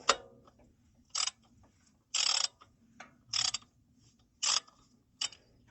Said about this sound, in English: we're gonna loosen up the pulley bolts just so that it's loose